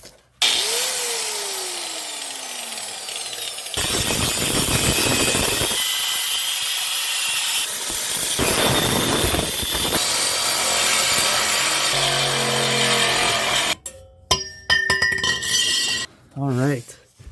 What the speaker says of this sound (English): I've been cutting and grinding this thing for solid like half an hour, 45 minutes, just cleaning up, making it round again